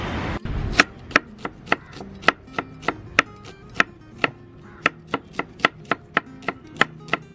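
Heavy cleaver strikes chopping through whole chicken on a board for Yemeni madhhooth, about twenty sharp, evenly paced close chops ringing out alone after a brief rustle.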